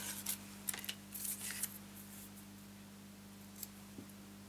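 Scissors snipping excess paper from a handmade pop-up slider card, a few quick faint crisp cuts in the first couple of seconds, then near silence with a soft click, over a steady low electrical hum.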